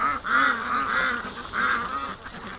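Muscovy and Pekin ducks, including males and females, quack and call loudly and close by in repeated rising bursts, with no talking over them.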